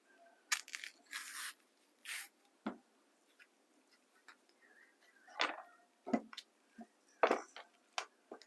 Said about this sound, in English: peel them, and then I like to pop them on a plate and just mash them up with a fork